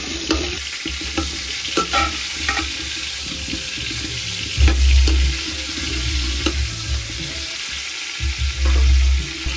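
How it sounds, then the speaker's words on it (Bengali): Potatoes tinted with saffron being stirred in a pot while biryani cooks, with a soft scraping and sizzling texture and intermittent stirring thumps that run steadily throughout, close and moderately loud, with no talking. "আর তারপর নাড়ি নেব"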